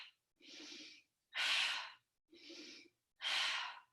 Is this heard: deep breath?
yes